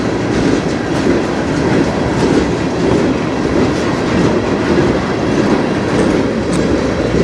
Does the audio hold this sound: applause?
no